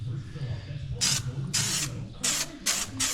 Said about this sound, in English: We got some areas that didn't stick, so I'm gonna spray them